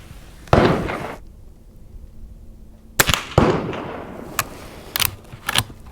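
Marlin 39a lever-action rifle fired at a range: two sharp, loud cracks a couple of seconds apart, each with a short ringing tail, followed by quieter clicks and clatter of the action.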